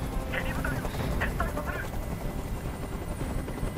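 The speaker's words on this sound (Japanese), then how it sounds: "あのヘリコプターをどこかにやってくれ。" A helicopter in the Detroit: Become Human video game drones with a steady rotor thump. Short brief sounds break in over the constant roar.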